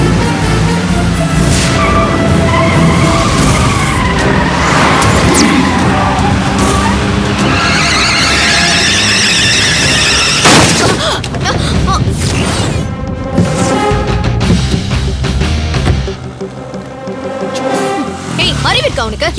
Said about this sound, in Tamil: இப்படிதான் கண்ணு மண்ணு தெரியாம வண்டியை வந்து இடிப்பியா?